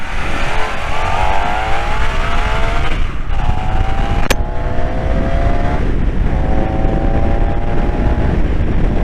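A car engine with a cam-chain fault revs loudly nearby, climbing in pitch through several rising sweeps with brief drops between them.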